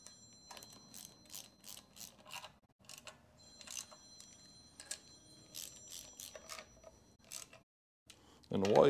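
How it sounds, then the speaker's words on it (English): A telephone rings in repeated trilling bursts with short gaps between them, fairly faint and close, then a louder noise cuts in at the very end. "And the phone rings."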